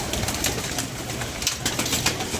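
Pigeons coo close by in a loft or bag, soft throaty rolling calls repeating several times over a short stretch, fairly loud with a little rustling.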